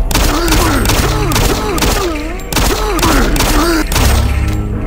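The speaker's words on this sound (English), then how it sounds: "Yeah, I'm shooting in the dark here." Gunfire against zombies in the video game Doom 3, a dense fusillade of dull thudding shots running nearly nonstop with loud bursts, while someone talks over much of it.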